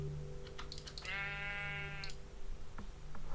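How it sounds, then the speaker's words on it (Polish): A single clear sheep bleat from the game Minecraft, a wavering nasal cry lasting about a second, with soft keyboard tapping and clicks around it. "Te owce tak beczą, że ja nie wytrzymuję psychicznie."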